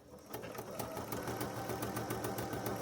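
A sewing machine back stitches through a quilted book sleeve, its motor running in a steady rapid clatter of needle strokes, close and alone for a few seconds.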